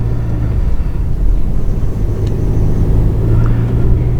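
An Audi Q3 accelerating hard in second gear, with a loud, steady low engine rumble and road roar that swells slightly as it pulls.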